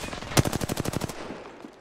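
Rapid automatic gunfire in a battle-royale shooter game, a loud burst of about ten evenly spaced shots over under a second, then fading.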